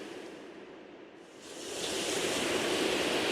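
Ocean waves with a soft, hissing wash that swells from a quiet lull into a fuller, broad surge of surf and then holds steady.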